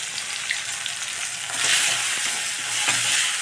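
Tomatoes sautéing with salt in a pan for a quick pulav make a bright, close sizzle with stirring scrapes, swelling louder midway through, without any speech.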